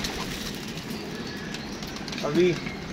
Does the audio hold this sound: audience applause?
no